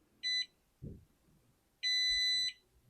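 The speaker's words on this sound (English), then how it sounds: "that was the longer beep. That means registration was successful" A short electronic beep from a Molicar gun safe's fingerprint reader, then a soft thump, followed by a longer, sustained beep confirming registration, both close and clear in a quiet room.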